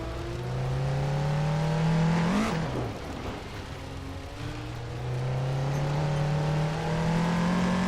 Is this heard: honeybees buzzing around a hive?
no